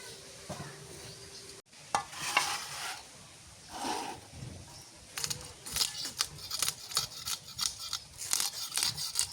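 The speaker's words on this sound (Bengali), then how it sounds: "কাটো মাছটা কেটে নিই" A big hilsa fish being cut up in a village kitchen, with sharp snipping and cutting clicks that quicken into a rapid series, alongside rustling and scraping close by.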